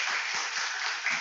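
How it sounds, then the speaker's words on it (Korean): A church congregation applauds during a Sunday afternoon service, a steady wash of many hands clapping together for a short moment, fairly close and even in loudness. "수고하는 모든 분들 박수 한번 드리도록 하겠습니다"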